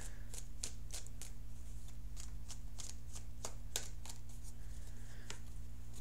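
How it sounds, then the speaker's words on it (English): Tarot cards are shuffled by hand in a series of crisp riffling flicks at an irregular rhythm, close and quiet over a steady low hum. "let's cut the cards and see what's going on."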